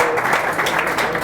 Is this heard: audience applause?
yes